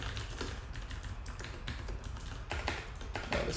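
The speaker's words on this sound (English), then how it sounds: "Oh, this keyboard sucks." Someone types on a computer keyboard, a quick irregular stream of close, clicky keystrokes with a few louder taps, continuing steadily with no voices.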